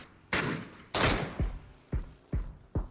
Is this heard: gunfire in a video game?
yes